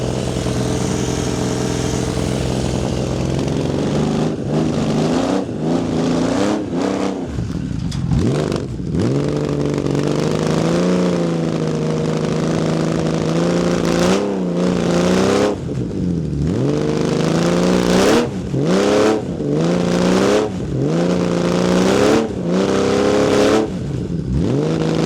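A 1980 Honda CBX1000 six-cylinder motorcycle with a 6x6 exhaust system runs close up, its smooth idle broken by repeated sharp throttle blips that rise and fall in pitch.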